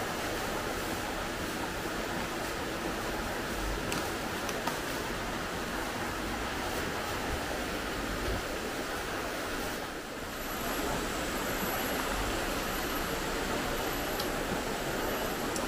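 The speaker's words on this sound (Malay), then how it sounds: "dengar air punya mengalir" River water rushes continuously in a broad, steady roar, close and loud, with only a brief dip in intensity midway and no voices heard.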